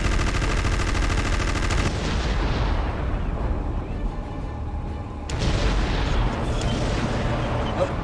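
Heavy gunfire and missile blasts from the video game Conker: Live & Reloaded, with tungsten-alloy, high-explosive rounds. Loud, dense booming and rapid shots roar continuously, dip briefly in the middle, then surge back at full force.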